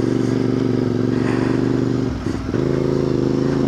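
A CFMOTO 450MT adventure motorcycle rides an enduro off-road track, its engine droning loud and steady with a brief dip and clatter before it picks up again. The rider is close to the bike.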